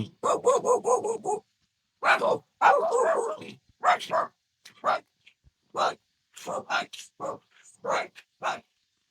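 A small dog barks and yips repeatedly in quick bursts, close and loud, with short pauses between volleys.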